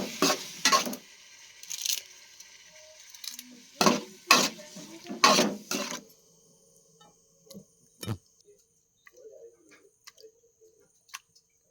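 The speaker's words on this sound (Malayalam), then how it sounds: "കുറച്ച് തക്കാളി ഇട്ടു അത് വയന്ന് വന്നേ ഇനി തക്കാളിയും കൂടെ വയന്ന് നമുക്ക് എടുക്കാം" Tomatoes sautéed in a pot for biryani: a spoon scrapes and clanks against the pan in several loud bursts, then the stirring gives way to quiet, sparse ticks and soft sizzling.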